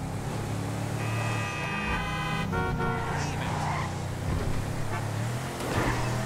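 A big, high-displacement motorcycle engine roaring in Grand Theft Auto 5, loud and close with rising and falling revs, horn-like tones and traffic around it.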